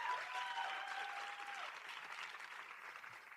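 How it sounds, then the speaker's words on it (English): Audience applause at a business pitch competition, a dense steady clatter of many hands that holds strong then eases slightly toward the end, with no talk over it. "Let's give them another round of applause."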